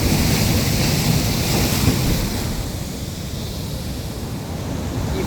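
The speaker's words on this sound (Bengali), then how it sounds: "ঢেউগুলো ভাঙতে ভাঙতে আসছে দূর থেকে" Large sea waves break on the shore at Digha, a continuous loud roar of surf mixed with wind buffeting the microphone, easing slightly midway, with no one talking.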